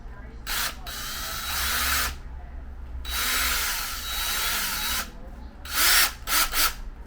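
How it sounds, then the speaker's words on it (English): A power drill runs in several bursts during a workshop build, whining for one to two seconds at a time with short pauses between, and a voice briefly speaks between runs. "Sometimes you need the drill."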